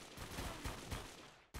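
Rapid bursts of gunfire from the video game 50 Cent: Bulletproof, played on very hard difficulty, crackling loud and dense for over a second before cutting off abruptly, then resuming.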